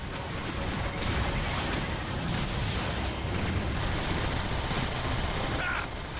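Continuous heavy weapons fire in Transformers: War for Cybertron, a dense unbroken roar of shots and blasts at steady loudness for several seconds, with no clear talking.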